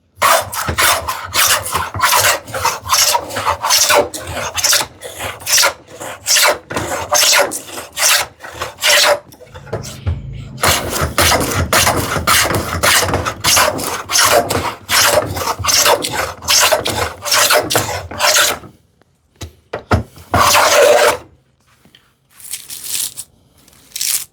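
Hand plane drawing long shavings off a wood board during hand-tool work on a shoe tidy, a loud rhythmic series of rasping strokes with short pauses, broken by a brief quiet spell near the end.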